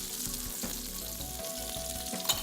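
Pollock Alleppey fish curry frying in a pan, a steady close sizzle with faint stirring scrapes and occasional soft clinks, no voices.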